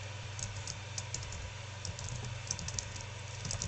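Typing on a computer keyboard while entering a newspaper description: quick, light key clicks scattered across the clip over a steady low hum, with no voices.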